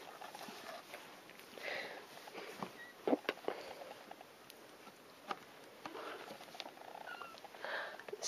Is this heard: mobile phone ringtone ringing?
no